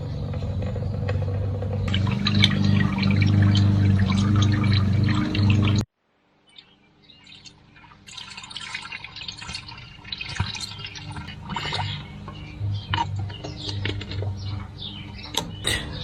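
Fluid drains from an RK25 tractor during a 300-hour service, splashing and trickling into a bucket. A low engine hum runs beneath it at first, then cuts out abruptly, leaving a steady close-up drip and pour.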